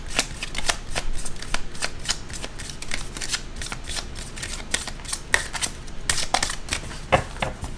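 A deck of tarot cards is shuffled close up, the cards riffling and snapping in quick repeated flicks that run steadily without talk.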